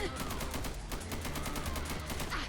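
An SA80 bullpup rifle fires in Fallout 4, a rapid, evenly spaced automatic burst of sharp cracks running without pause throughout, fairly close and alone.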